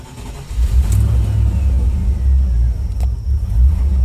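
A Land Rover engine cranks briefly, then catches and fires up with a loud, close rumble that settles into a rough, steady running note, with a revving surge near the end.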